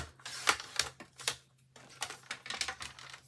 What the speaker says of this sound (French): Donc je vais la couper à 16 moins 1 cm.